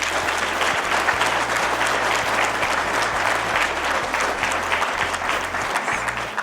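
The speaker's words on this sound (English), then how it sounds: "Let's give them another round of applause." A big audience at a sheep and wool fashion show in Reno applauds the contestants with loud, continuous clapping, while a low steady tone hums underneath.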